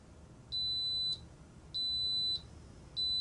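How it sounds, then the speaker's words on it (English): An Instant Pot Duo electric pressure cooker beeps when cooking is done, in long, steady high-pitched tones, three in a row with short pauses, clear and close against a quiet background. "that beeped several times to let you know the cooking was done"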